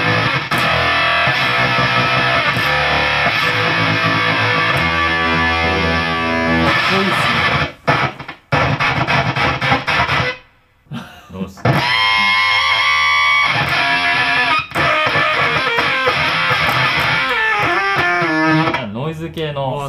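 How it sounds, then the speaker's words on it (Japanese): Noise-type guitar effect pedal from Prescription Electronics, loud dense distorted guitar tone with swelling, fluctuating volume and brief dropouts, with a voice speaking briefly over it. "ノイズ系のサウンドですごい いいんじゃないですかね"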